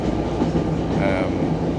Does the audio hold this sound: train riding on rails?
yes